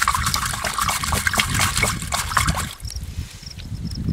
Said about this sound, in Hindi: 4 लीटर पानी और 1 लीटर मिट्टी तेल को मटका के अंदर ये लकड़ी की सहायता से घोल रहा हूँ